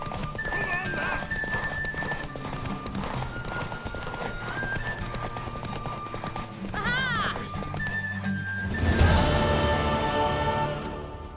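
Horse hooves clip-clop steadily while a horse, a mare, neighs and whinnies loudly, with a burst of louder commotion near the end over a busy game soundscape in The Witcher 3: Wild Hunt.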